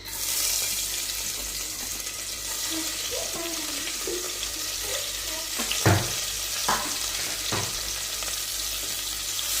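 Onions sautéing with spices in a pan for beef biryani, with chopped carrot added, give a steady broadband sizzle throughout, punctuated by a few louder clatters of a utensil stirring near the middle.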